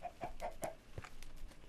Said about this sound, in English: Oh, you silly chicken.